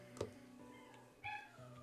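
A cat meows twice, a short cry and then a longer drawn-out one, quiet and nearby.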